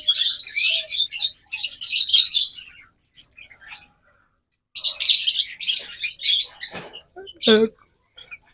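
Caged pet birds of local breed, close-ringed pairs kept for sale, chirp in quick bright bursts near at hand, with a pause midway and a few sharper calls at the end.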